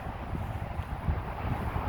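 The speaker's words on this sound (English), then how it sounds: "It's really windy" Steady wind rumbles and buffets against the microphone in a cemetery in Madison County, Indiana, a continuous low roar with no voices.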